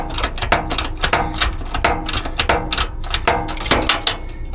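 A wrench works a nylock-style nut on a bolt during transmission servicing on a Workhorse P32 motorhome with a 4L80E transmission, giving a close, rapid run of clicking and ratcheting taps with no pause.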